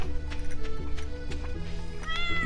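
A cat in the Stardew Valley video game meows several times in quick succession, clear and close, over soft game background music.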